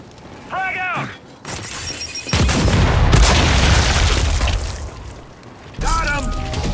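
A frag grenade goes off in the video game Gears 5: a loud, sustained booming blast with a crackling tail that lasts a few seconds. Brief bursts of game voice come before and after it.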